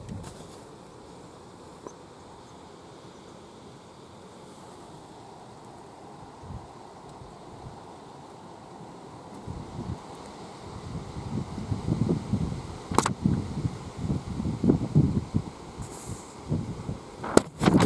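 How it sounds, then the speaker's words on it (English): Wind buffets the microphone, starting as a low rumble and growing into stronger gusty blasts toward the end. "Oh, it's windy"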